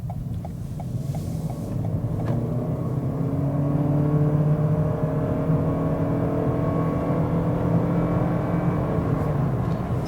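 A Toyota Corolla GR Sport's 2-litre engine drones steadily through its CVT gearbox, a sustained loud in-cabin hum with revs held high and barely changing pitch, no voices over it.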